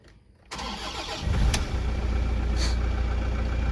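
A Toyota Innova's 2KD diesel engine cranks after a short quiet moment, catches with a loud rising burst and then settles into a steady, rumbling idle close by.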